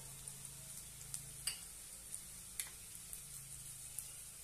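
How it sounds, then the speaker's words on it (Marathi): Ground coriander, black masala and turmeric are sautéed in a pan for a cowpea, eggplant and potato curry, giving a faint, steady sizzle with small scattered ticks and clicks from stirring. "छानपैकी परतून घेऊया"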